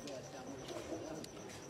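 A female Teddy pigeon coos softly in a low, murmuring voice, faint and partly buried under nearby conversation.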